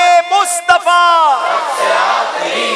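A crowd at a religious gathering calls out a devotional slogan in unison, a loud chorus of voices with a sustained, swelling shout that tapers off.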